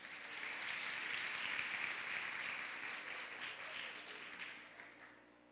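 Audience applause at the opening ceremony of a university nursing week in Amazonas, a steady, dense clapping that holds fairly even and then slowly thins and fades toward the end.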